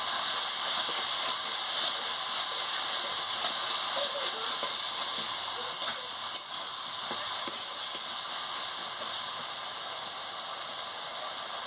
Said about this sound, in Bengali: এবারে আলুটা দিয়ে ভালো করে কষাবো